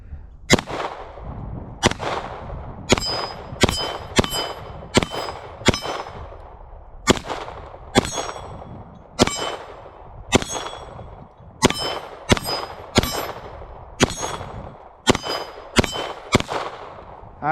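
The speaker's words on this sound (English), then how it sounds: "And then we'll shoot this Blazers aluminum next." Canik Mete SFX pistol firing Blazer aluminum-cased ammo at bowling pins outdoors, a steady string of about eighteen sharp shots, each followed by a metallic clang of the pins being struck, in irregular pairs and clusters.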